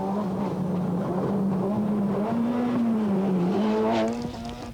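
A Mazda 323 four-wheel-drive rally car revs hard on a Jamaican rally stage, its engine note wavering and climbing through gear changes, fairly distant, then fading as it moves away.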